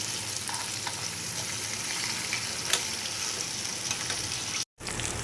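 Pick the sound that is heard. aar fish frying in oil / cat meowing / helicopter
aar fish frying in oil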